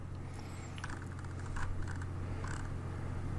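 A few soft computer clicks to refresh a web page sound over a steady low electrical hum, light and close, spaced irregularly with no one speaking.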